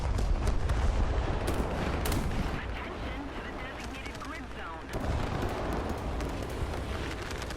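Cromwell tank cannon firing in War Thunder amid a dense, continuous roar of battlefield gunfire and explosions, with sharp blasts cutting through a loud, busy game soundscape.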